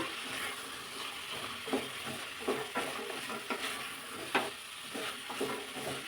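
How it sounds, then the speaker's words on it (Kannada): Cut vegetables fry in oil for hotel-style sagu, a steady sizzle with spatula scrapes and stirring clatters recurring every second or so, close and moderately loud, with no talking. "ನೀಟಾಗಿ ಎಣ್ಣೆಯಲ್ಲಿ ಇದನ್ನು ತರಕಾರಿನೂ 1-2 ನಿಮಿಷ ಫ್ರೈ ಮಾಡಬೇಕು"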